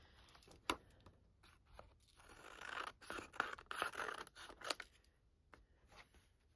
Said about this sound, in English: Let's get a good pair of scissors and the board.